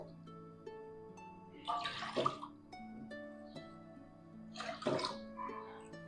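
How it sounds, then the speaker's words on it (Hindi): Water pours into a pan for sugar syrup in two separate splashing bursts, each lasting about a second, over a quiet kitchen background. "चाशनी बनाने के लिए सेम कप से डालेंगे 3 कप पानी"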